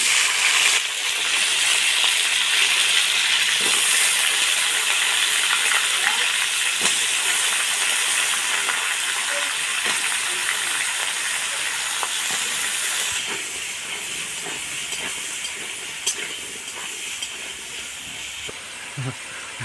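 Potatoes and onions frying together in hot oil with whole cumin, dried red chillies and bay leaves, a steady loud hiss and sizzle running throughout, easing slightly toward the end with a few faint clinks.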